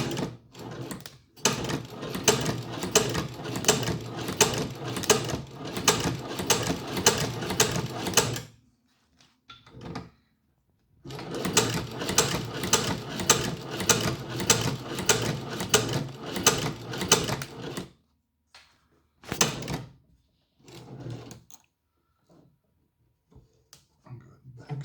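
A Chinese leather shoe-patcher sewing machine with a rotating head back stitches a patch onto a motorcycle vest. It runs in two long bursts of rapid mechanical clatter, broken by silences and a few short stitching spurts.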